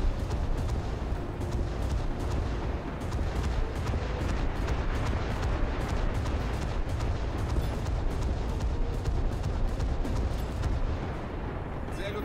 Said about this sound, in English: My secondary guns are firing upon a coastal vessel. Missile away.